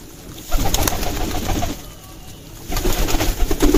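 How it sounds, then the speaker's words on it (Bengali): Pigeons coo in a loft, a rooftop flock of racer and Giribaz pigeons in Chapainawabganj, Bangladesh, with soft repeated cooing and wing flutter that drop briefly to a hush midway before swelling again. "এটা আমার ঘনবাজির কবুতর।"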